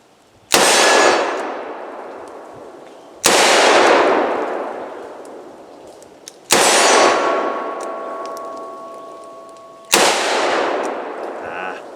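.357 Magnum revolver fired double action with Federal factory rounds: four loud, sharp shots spaced about three seconds apart, each with a long ringing decay, no talking.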